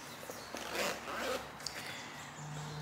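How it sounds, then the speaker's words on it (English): A zipper runs along a full-length leather motorcycle vest in a few quick, close rasping pulls, with short pauses between them. "The zipper goes from the bottom to the top, and from the left side all the way around to the right side, full length of the vest."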